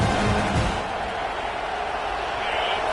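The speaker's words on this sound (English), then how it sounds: "This crowd trying to make life miserable for this offense." Roaring football stadium crowd, a dense, steady wall of loud noise from thousands of fans trying to rattle the offense, continuous with no breaks.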